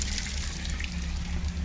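Water rushes steadily at a waterfall, a dense continuous flow heard fairly close, with no break and no voices.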